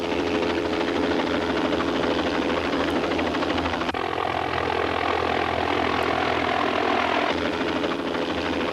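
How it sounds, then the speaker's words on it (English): Helicopter rotors and engine droning steadily and loudly, heard throughout as the aircraft approaches a landing zone in a front yard with wires and obstructions near a flood rescue scene. "Within 5 minutes, the helicopter was on the scene."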